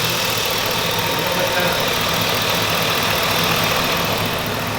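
A steady engine idles with a constant low rumble and hiss, unchanging throughout and heard from close by.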